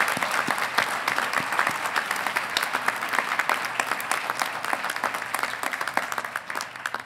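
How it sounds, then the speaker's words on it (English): Sustained applause from a crowd at a fall university graduation ceremony, steady dense clapping throughout with no speech over it. "So let's have a round of applause."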